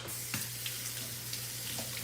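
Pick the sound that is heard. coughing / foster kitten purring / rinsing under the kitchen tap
rinsing under the kitchen tap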